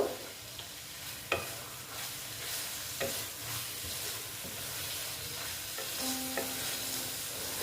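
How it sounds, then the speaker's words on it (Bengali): Steady sizzling hiss of pointed gourd pieces frying with spices in a pan, with occasional scrapes and clinks of stirring, no voices. "পটলটার সঙ্গে সুন্দর মশলাটা ভাজা হয়ে গেছে"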